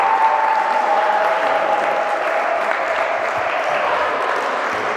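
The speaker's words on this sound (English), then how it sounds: "So please, one big applause as well for Andre, Ivan, and Stefan." An audience at a mini basketball coaching clinic gives a sustained round of applause, a dense, even wash of clapping that holds at the same loudness from start to finish.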